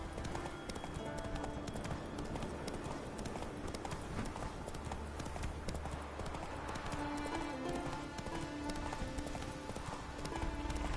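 Trotting horse hooves from a PS4 video game, a steady clip-clop rhythm running through the whole stretch over a dense bed of game ambience and music, with no voice on top.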